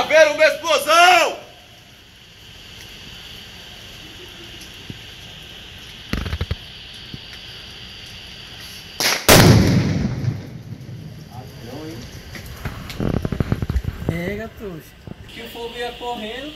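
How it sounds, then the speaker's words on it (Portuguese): A police bomb squad detonates a found explosive in Porto Velho, Brazil: a sharp, loud blast bursts out midway, followed by a roaring, crackling rush, with people talking and shouting before and after. "Vai haver uma explosão!"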